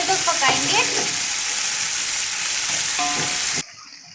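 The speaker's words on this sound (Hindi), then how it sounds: "टमाटरों को हम अच्छे तरीके से गलने तक पकाएंगे।" Tomatoes cook in oil in a pan for egg potato biryani, giving a steady close sizzle with brief stirring scrapes, before the sound cuts off abruptly near the end.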